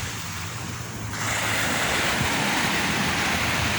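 Ocean waves break steadily on a Jamaican seashore at night, a close, continuous roar of surf that swells louder partway through, with wind buffeting the microphone and no voices.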